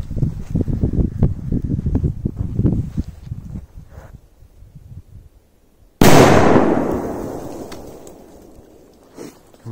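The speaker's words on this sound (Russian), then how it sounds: "Что ж, ребята, повзрывали мы петард." Outdoors, a powerful petard firecracker goes off with one sudden, loud blast that decays into a long rumbling tail, following several seconds of quieter rustling and handling noise.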